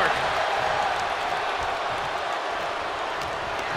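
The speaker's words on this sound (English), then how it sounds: "This crowd is thunderous right now." A video game crowd in a WWE 2K24 Elimination Chamber match roars steadily, a loud, continuous wash of cheering and applause with no pauses.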